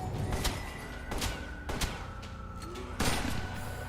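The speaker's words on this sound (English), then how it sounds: "Gunshot in your face." Gunshots in a video game, a few heavy, well-spaced blasts roughly a second apart over a busy background rumble, loud and close.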